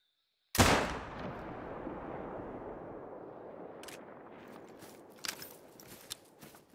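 A single sharp rifle shot fired while hunting in New Zealand cracks loudly, then rolls away in a long fading echo, followed by soft rustling and a few small knocks.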